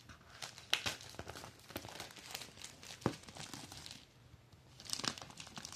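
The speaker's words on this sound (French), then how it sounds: "tirer le plastique" Plastic wrapping is pulled and crinkled off the box of a LaMetric Time clock, a close run of crackling and tearing with a few sharper snaps and a louder crinkle near the end.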